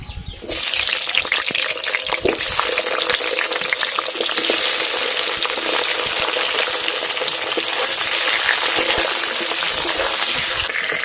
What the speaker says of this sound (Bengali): এই আলুগুলো মাছ ভাজার তেলে ভেজে নেব।